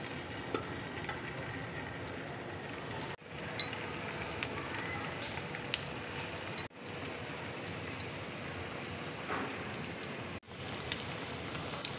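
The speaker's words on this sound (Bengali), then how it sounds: "কাবাবগুলো দেখো আমি এবার ঘিয়ের মধ্যে দিয়ে দিচ্ছি।" Paneer kebabs shallow-frying in ghee on a tawa make a soft, steady crackling sizzle like light rain, fairly faint and continuous, cut by a few brief breaks.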